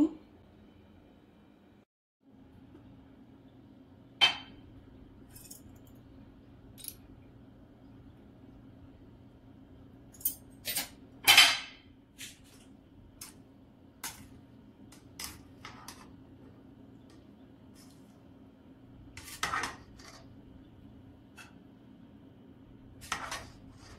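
Chicken mandi is served onto a plate. Sparse, sharp clinks and taps of utensils against dishes stand out over a quiet, low steady hum, with longer pauses between them.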